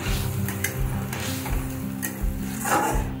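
Fried eggs stirred into a simmering curry in a pan after water is added; a steady sizzle runs throughout, broken by repeated scraping stirs of a spoon against the pan.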